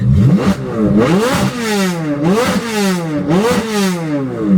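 A C8 Corvette Z06 engine with a catless exhaust revs hard three times in a row via paddle taps, each blip rising and falling with a raspy, loud exhaust note and no talking.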